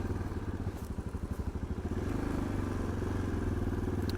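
A motorcycle engine drones steadily and close while the bike leans through a series of gentle turns, its rumble pulsing slightly with throttle changes, with wind noise around it.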